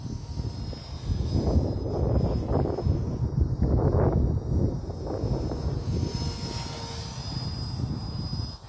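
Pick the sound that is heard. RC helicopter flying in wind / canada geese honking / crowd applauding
RC helicopter flying in wind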